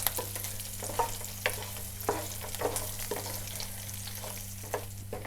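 Chopped peanuts and cashews sizzle in hot oil in a pan, a steady close frying hiss broken by regular scraping stirs about once a second, with no talk.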